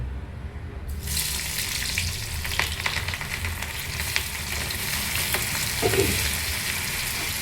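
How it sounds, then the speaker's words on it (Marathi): Soybean chunks frying in hot oil give a steady, close sizzle that runs the whole time, with a few louder spatters and crackles rising out of it. "चौकोनी करून घेतले ते आता तेलात तळून घ्यायचे"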